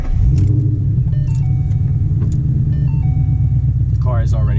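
A car engine idles with a steady low rumble throughout, with a few faint clicks and tones, and a voice briefly talks near the end.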